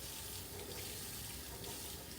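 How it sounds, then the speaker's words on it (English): Running tap water rinsing a single green onion at a kitchen sink, a steady, even splashing stream that stays faint and continuous throughout. "So I'm going to rinse off my green onion, my single green onion."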